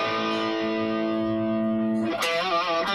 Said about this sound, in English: We got reverb turned up.